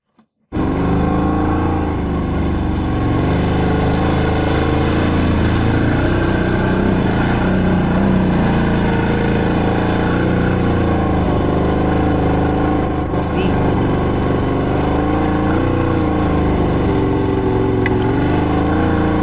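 A car engine drones steadily while driving toward a remote hunting area, a continuous close rumble with no break and a brief knock partway through.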